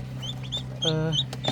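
Newly hatched chicks peeping in short, high, repeated chirps, close by, with a voice talking over them in between.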